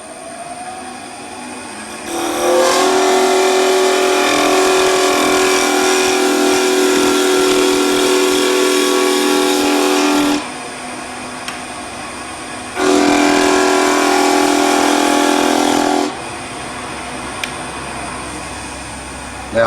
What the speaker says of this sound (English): Now if you press heavily on the bevel, this is the result and the noise that it makes.